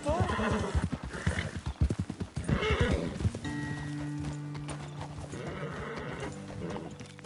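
Horses in a video game, clip-clopping hooves in a quick rhythmic gait with a whinny, close and loud, then slowing to a halt over a steady background drone.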